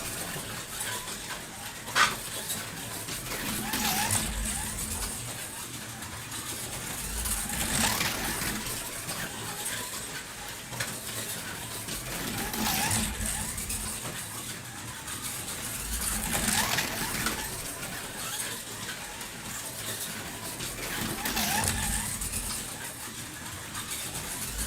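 A pink 1/32 scale Lamborghini slot car lapping a track, a buzzing motor whine rising and fading in repeated passes every few seconds, with small clicks along the way.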